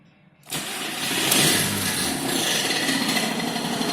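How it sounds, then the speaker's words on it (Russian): A Skoda car engine is started after a short silence, turning over and catching within a moment, then settling into a steady, loud, close idle. "Заводим, значит, и слышим"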